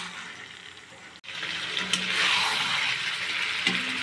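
A rushing splash of water hits frying chicken curry, swelling into a strong, steady hiss and sizzle after a brief quieter moment of frying.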